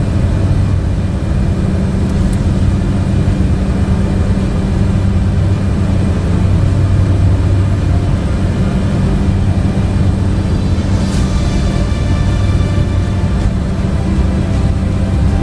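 Steady propeller-driven aircraft engine drone from Microsoft Flight Simulator, a continuous low rumble with a slight shift in pitch as RPM is lowered, loud and constant with no talk.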